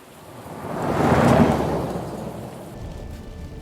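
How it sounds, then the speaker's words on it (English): Steady rain on a swampy outdoor path, with a rolling thunder rumble that swells to a peak and fades, leaving the hiss of rainfall alone. "It's raining now."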